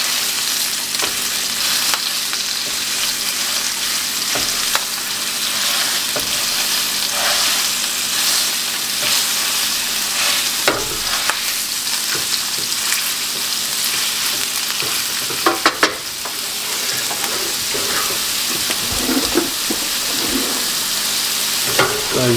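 Sausage sizzles and fries steadily in a pan while a utensil breaks it up, scraping and clacking now and then over the constant close hiss, with no talking.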